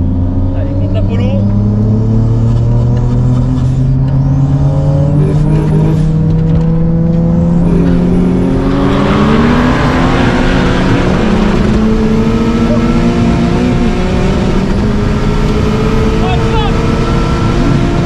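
An 800 hp Volkswagen Polo WRC and a 750 hp BMW E30 accelerate flat out in a drag race, engines screaming with rising pitch through several gear shifts, very loud and close, with people talking over the noise.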